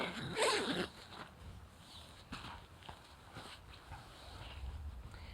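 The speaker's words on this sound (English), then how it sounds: "So we'll unzip the sleeping bag." A Browning McKinley -30F sleeping bag zipper is pulled open in a quick rasping burst near the start, followed by softer rustling and shuffling of fabric.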